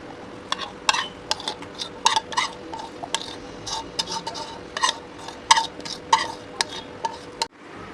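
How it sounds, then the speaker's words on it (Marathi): Kharvas mixture is poured into a cooking pot with a quick run of light clinks, taps and scraping knocks against the metal, close and irregular, with no talking. "आता एका टोपामध्ये आपल्याला हे सगळं मिश्रण ओतून घ्यायचं आहे"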